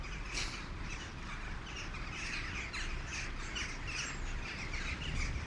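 Birds and crows call outdoors at early dawn, repeated caws and chirps rising over a steady, moderately loud background wash throughout.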